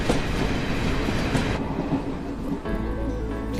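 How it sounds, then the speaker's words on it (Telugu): A train rolls past in a film scene, a loud, steady rumble of rail wagons with rhythmic clickety-clack and a brief metallic whine, continuing without speech. "అది ట్రైన్ వచ్చేసింది."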